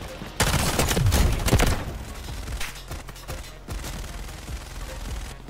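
Gunfire in the shooter Delta Force: Hawk Ops, a dense burst of shots with thumping impacts over the first couple of seconds, then scattered sharper reports, loud and close throughout.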